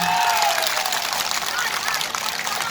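Crowd at a Trinamool election rally in Jalpaiguri applauding loudly for candidate Krishna Das, dense continuous clapping throughout with a brief whistle-like tone near the start.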